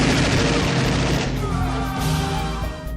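A movie shootout fills the air with dense gunfire and crashing blasts that fade into a ringing, tonal tail toward the end.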